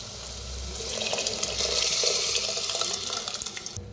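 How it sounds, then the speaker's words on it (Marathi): Water is poured into a pot of cooked dal and bitter gourd, giving a steady close splashing gush that swells, then trickles and sputters near the end. "तर थोडस पाणी बी वतते"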